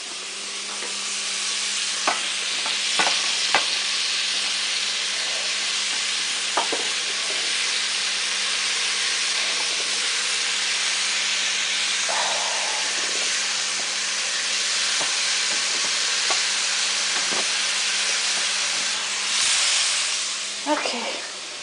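Chopped vegetables frying and sizzling in a pot with bacon for split pea soup, a steady broad hiss throughout with occasional spoon clicks and scrapes from stirring.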